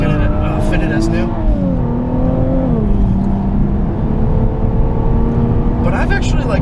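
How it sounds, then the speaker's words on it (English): A 2017 Infiniti Q60 Red Sport 400 engine pulls under load with a constant turbo whoosh and droning tones that shift in pitch. Someone talks over it throughout. "all the real sound comes from up front in that sort of like just GTR style huge turbo whoosh all the time"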